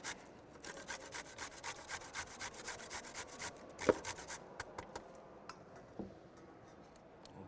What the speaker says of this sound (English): Grate the beet.